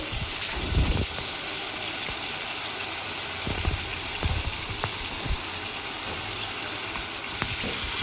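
Fish fries in oil in a pan for a fish curry, giving a steady, continuous sizzle with faint scattered pops and clicks, close by and without talk.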